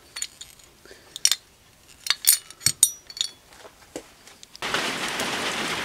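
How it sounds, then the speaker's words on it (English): Steady rain sets in partway through, a dense hiss that follows a series of light clinks and taps, and it continues to the end. "It's been raining like this all week."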